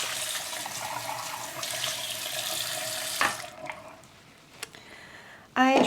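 Water runs steadily from a tap for a few seconds while plant-cutting cups are refreshed. The flow then cuts off, followed by a couple of light knocks and a short splash of pouring.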